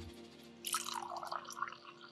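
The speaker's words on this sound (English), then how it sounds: "Pour it in the glass." Tea drink poured from a container into a glass, a close splashing trickle that starts after a brief pause and runs steadily to the end with no talk over it.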